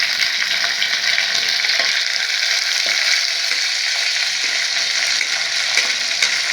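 Green chillies and onion fry for tomato gojju with a loud, dense, continuous sizzle and occasional stirring scrapes, close up with no voices.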